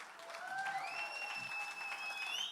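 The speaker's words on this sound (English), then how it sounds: "if you could give him a big round of applause" Audience applause at a film trailer launch event, a steady wash of clapping lasting throughout, with faint whistles or feedback tones riding above it.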